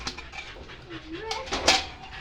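Dogs panting and whimpering nearby while eating, with a person talking softly over them.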